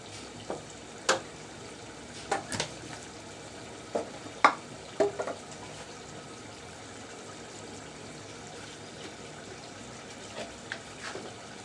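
Ground spices for chicken curry frying in oil, with a low steady sizzle and scattered sharp clicks and scrapes of a spoon stirring the pan, close and quiet.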